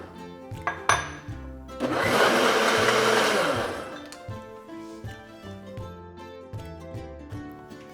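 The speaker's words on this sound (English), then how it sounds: "We're going to turn the blender on." A blender roars for about two seconds on its ice cream setting, blending a pistachio ice cream mix with a dense whirring rush that rises then winds down, among intermittent thumps and background music.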